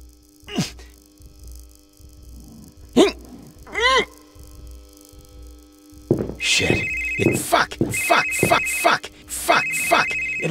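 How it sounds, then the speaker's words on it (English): A cell phone ringtone rings in the video game Someday You'll Return, starting around midway in repeated bright bursts after scattered clicks and sound effects, with a voice speaking over parts of it. "Hear the cell."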